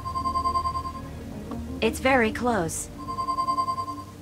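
A phone rings with a pulsing electronic trill in Leisure Suit Larry: Wet Dreams Dry Twice, repeating steadily nearby, pausing briefly while a voice speaks and then resuming.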